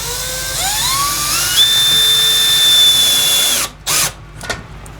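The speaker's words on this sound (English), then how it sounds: "So now I'm taking a screw and putting a little rubber grommet on it," A power drill drives a screw fitted with a small rubber grommet down into a workbench: a close, loud whine rises in pitch and holds steady for about three seconds, then cuts off, followed by a couple of short knocks.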